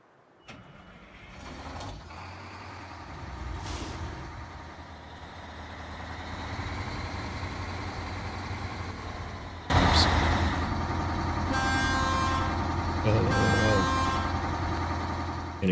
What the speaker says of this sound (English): It's a little bit of a noisy truck.